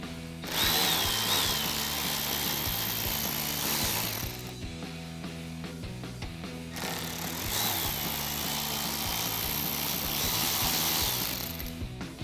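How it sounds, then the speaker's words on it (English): Power tool backing out the last two 7mm screws on a 2016-2022 Camaro rear diffuser during an MP Concepts ZL1-style install, a loud continuous ratcheting whir with two bursts separated by a brief pause, close up with no talk. "And now we can remove our last 2 7mm screws."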